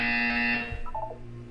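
A steady electronic buzzer from the video game Portal 2 drones loudly for about half a second, then cuts off and fades into quieter tones.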